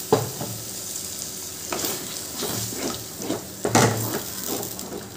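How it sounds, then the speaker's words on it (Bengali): Stirring and sizzling in a pan of cauliflower korma gravy as water from a rinsed grinder jar is added, with steady frying crackle and scraping stir strokes, a sharper burst near the end. "এবার ওই মিক্সির বাটিটা ধুয়ে একটু জল দিয়ে দিচ্ছি"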